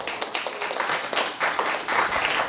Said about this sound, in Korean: 다시 한번 박수해 주세요